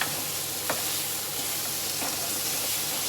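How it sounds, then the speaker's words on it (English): Eggs cracked into a hot pan and stirred while they fry for a quick seafood and rice meal, giving a steady sizzle with a few soft scraping stirs and no talk. "Don't hang about and wait long before you start stirring it around."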